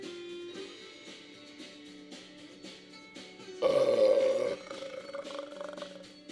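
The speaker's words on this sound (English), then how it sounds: "You just belch." A single loud, drawn-out belch, about a second long, bursts out midway through a video game session set in Akihabara, Japan, over steady background game music.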